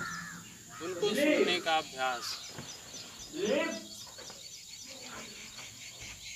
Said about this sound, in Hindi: आस पास में जो ध्वनि हो रही है, चिड़ियां जो चहचहा रही हैं